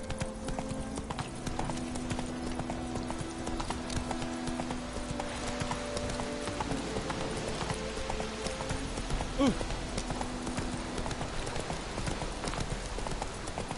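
Horse hooves in the video game The Witcher 3: Wild Hunt, a steady rhythmic clip-clop of a ridden horse that carries on throughout, with faint voices and tonal background sound underneath.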